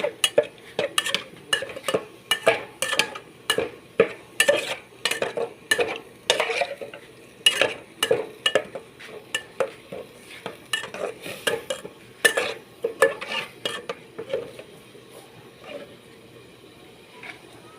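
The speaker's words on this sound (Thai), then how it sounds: "ตักน้ำพริกใส่ถ้วยนะคะ" A spoon scoops chili paste into a bowl, giving a rapid series of close, distinct scrapes and clinks against the dish in an uneven rhythm that eases off near the end.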